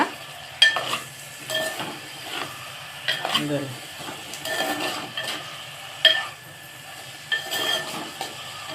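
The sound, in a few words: small fish (mettallu) frying in a pan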